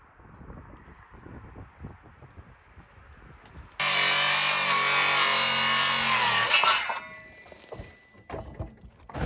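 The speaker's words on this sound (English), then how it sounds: "why are you using a circular saw to make a nice straight finish cut like this should be?" A circular saw rips a 10-foot 2x4 down to 2x2 stock, cutting loudly for about three seconds with a steady high whine and deeper motor drone, then spinning down. Quieter shop handling noises come before and after.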